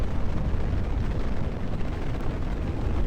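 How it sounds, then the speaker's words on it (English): Rocket launch in Kerbal Space Program, a loud, continuous roaring rumble of engine thrust that stays heavy and steady throughout, with no talking. "What a beautiful time to launch a rocket."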